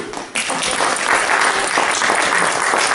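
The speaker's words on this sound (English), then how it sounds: "y'all give Nathaniel a big round of applause here" An audience applauds Nathaniel at a Christmas magic show, a dense, loud wash of clapping that swells in after a brief quiet start and carries on steadily to the end.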